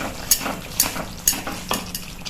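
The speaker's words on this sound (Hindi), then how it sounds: "और हम इसमें डालेंगे गरम मसाला और ये कसूरी मेथी। अच्छी तरह से मिलाएंगे।" Spoon stirring garam masala and kasuri methi into a cooking ridge gourd curry; sharp metallic clinks against the pan come every half second or so over a soft background sizzle.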